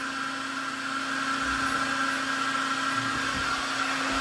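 A microwave oven runs on a 48-volt LiFePO4 battery through an inverter, giving a steady close hum with a constant electrical whine and fan noise, unbroken throughout with no talk.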